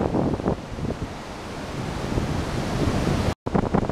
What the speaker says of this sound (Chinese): 那么在这个瀑布的瀑布口，那么冲泻奔腾而下